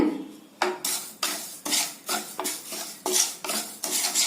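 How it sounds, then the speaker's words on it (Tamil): Ragi being dry-roasted on low heat in a pan, with a spoon scraping and stirring in repeated close, rhythmic strokes, each a bright rasping sweep against the metal, with no talk. "கருகாம சிம்மில் ட்ரையாக வறுத்து எடுத்துக்கலாங்க"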